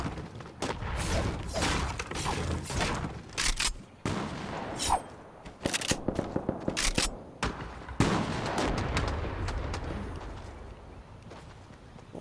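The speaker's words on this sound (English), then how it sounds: "A lot of shooting going on." Rapid bursts of gunfire in Fortnite, loud cracking volleys and single shots in irregular clusters, with brief pauses and mechanical clatter between them.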